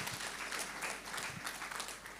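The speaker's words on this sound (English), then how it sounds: "Can we give him another applause," Audience applause at a university's 60th anniversary ceremony, a steady wash of clapping from a large crowd lasting a couple of seconds, fairly even in loudness with no speech over it.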